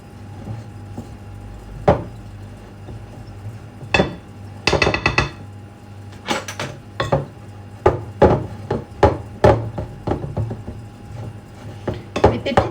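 Gluten-free, dairy-free cookie dough being mixed in a bowl, with a run of sharp utensil clacks and scrapes against the bowl, sparse at first and then quickening into an irregular rhythm, close and moderately loud.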